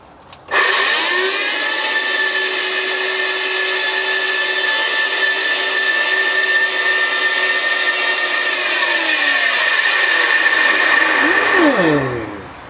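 Vintage Vactric Junior vacuum cleaner motor, a machine drawing a couple of hundred watts, switched on with its brush roll disconnected: a steady loud whine with tonal hum for about eleven seconds, then winding down as it is turned off.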